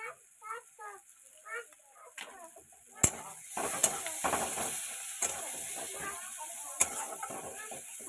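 Fish frying in a pan gives a soft sizzle under a few words of speech, then a spatula clanks and scrapes close by over continuous crackling oil.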